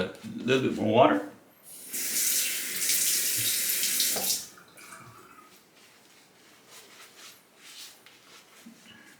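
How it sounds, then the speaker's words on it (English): Tap water runs steadily into a sink for a few seconds while shaving lather is worked up with an Omega Pro 48 boar brush, then cuts off, leaving faint handling sounds. "Add a little bit more water."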